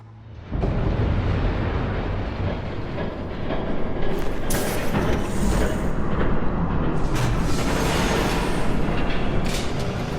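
A train rushes past in the Batman: The Telltale Series video game, a loud, steady rolling rumble with hissing and clattering that swells after a brief quiet start and stays close and heavy throughout, with no talking.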